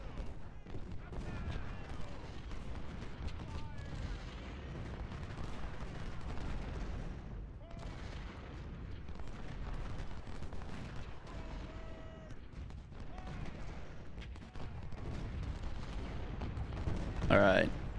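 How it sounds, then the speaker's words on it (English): Cannon artillery booming across a Civil War battlefield in the strategy game Ultimate General: Civil War, repeated heavy reports over continuous battle din, with a sharper blast near the end and a voice talking over it. "What are you cannons doing?"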